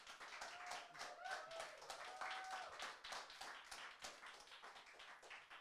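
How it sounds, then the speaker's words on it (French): A live audience applauds a singer at an intimate apartment concert, with dense, steady clapping throughout and no one speaking. "Vous pouvez l'applaudir encore une fois"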